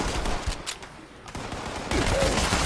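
Rapid gunfire from a Fallout 76 weapon, a dense, sustained string of loud shots that thickens toward the end.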